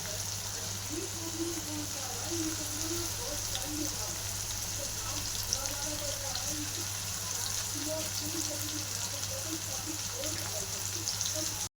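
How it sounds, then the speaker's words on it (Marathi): Onions sizzle and fry in a pan in a home kitchen, a steady soft crackle under a low hum, with someone talking over the cooking. "मी आता कांदा तांबडच खाली तळून घेणार आहे"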